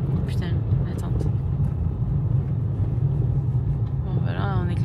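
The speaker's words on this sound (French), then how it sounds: "Bon, voilà, ben on est clairement dans une tempête." Storm wind buffets a tent at a night bivouac in Portugal, tossing trees and dust: a loud, steady low roar that never lets up, with brief voices breaking through near the start and end.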